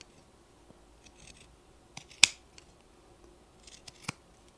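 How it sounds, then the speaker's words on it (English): Scissors snip around the curved edges of a sewn oven mitt's fabric, quiet scattered cuts with one sharp louder snap midway and another near the end, no talking. "Being careful to not cut into your stitches."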